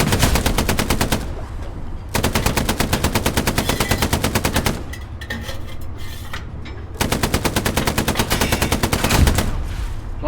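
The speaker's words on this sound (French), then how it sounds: "il y a des tirs de MP40 là, juste devant nous là." Sustained MP40 submachine gun fire in the WWII shooter Hell Let Loose, loud and close, coming in long rapid automatic bursts with short pauses between them.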